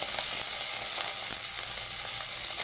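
Papda fish frying in hot oil in a pan, a steady close hiss and sizzle with faint crackles and pops spitting through it, continuous and alone with no voices.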